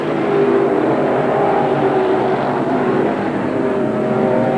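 Sportsman Division race cars at Merrittville Speedway, a loud continuous engine roar with a steady droning pitch that holds across the whole stretch, unbroken by talk.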